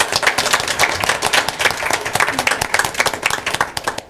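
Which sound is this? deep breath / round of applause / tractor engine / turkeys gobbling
round of applause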